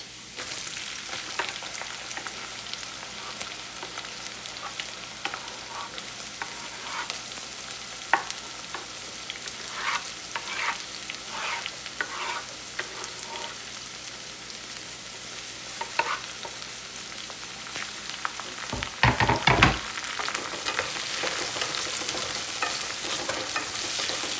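Onions fry in oil in a pan, browning to golden, giving a continuous soft sizzle broken by occasional sharp scrapes and taps of stirring, close by and at moderate volume, with a brief louder clatter near the end and no speech.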